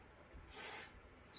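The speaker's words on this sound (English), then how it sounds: "take the electrical lubricant, spray it into the terminals" Electrical lubricant sprayed from an aerosol can into the terminals of a 2008 Weatherworks 6-inch desk/clip fan, one hissing burst of under half a second, close and clear, with a brief start of another at the end.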